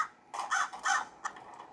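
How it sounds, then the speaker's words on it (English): Crow cawing in the Hello Neighbor Alpha 2 video game, three harsh caws close together followed by a shorter fainter one, alone in a quiet scene. "Hello, Mr. Crow."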